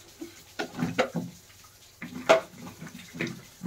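Fresh mushrooms are rinsed by hand in a bowl of water, with short splashes and sloshes in irregular bursts, close and fairly clear, and brief gaps between them.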